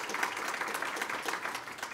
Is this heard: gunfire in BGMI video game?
no